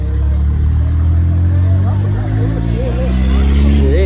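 An Audi car engine revs at a car meet in a park, a steady deep rumble with rising pitch swells near the end, while crowd chatter carries on faintly in the background.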